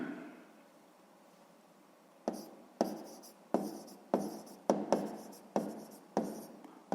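Pen strokes on paper while a sixth-grade math solution is worked out, a quiet hush followed by a series of about eight sharp, close scratching strokes at a steady rhythm.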